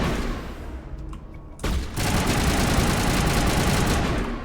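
Machine gun fire rattles on in the video game Mass Effect as a loud, dense stream of rapid shots that eases briefly, then bursts back harder and keeps up without a break.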